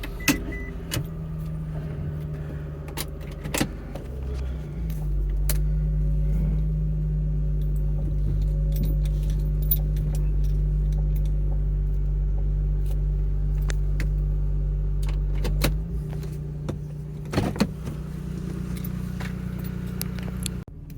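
A Mitsubishi Eclipse engine with a weak battery cranks and catches, then settles into a steady, loud idle close by, with a few clicks and knocks over the running engine and no talk.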